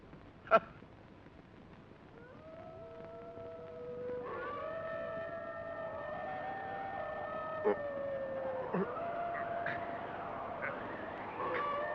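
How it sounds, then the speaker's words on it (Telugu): Jackals howl at night near a fort in a Telugu fantasy film scene. After a sharp hit, several wavering, rising howls overlap and build, continuing at moderate loudness to the end. "నక్కలు కూస్తున్నట్టున్నాయి."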